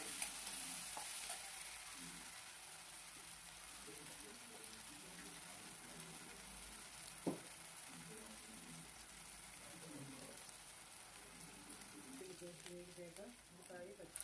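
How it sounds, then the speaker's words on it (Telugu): Ginger garlic paste being stirred into a sizzling chicken biryani base in a pan, a steady scraping and frying hiss running throughout with a voice talking over it. "అందులో రెండు టీ స్పూన్లు అల్లం వెల్లుల్లి పేస్ట్ వేయాలి వేసి బాగా కలుపుకోవాలి"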